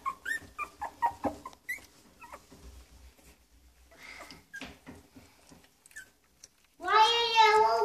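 A puppy yelps and whines loudly near the end, a burst of high, harmonic cries after quieter talk and small noises earlier on.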